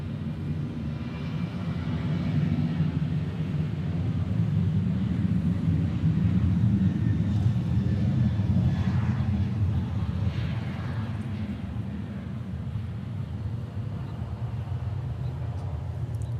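Airplane departing an airfield in Hawaii, bound for Majuro, a steady low engine roar that holds at a constant level throughout with a faint higher whine above it, no talk.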